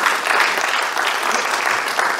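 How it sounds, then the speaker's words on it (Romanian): Steady, dense applause from a crowd at an awards ceremony, loud and continuous throughout. "Aplauze bine meritate pentru dumneavoastră."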